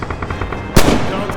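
Machine gun fire in the WWII game Red Orchestra 2 at Stalingrad, a faint rapid patter followed by one sharp, loud close shot with a ringing tail.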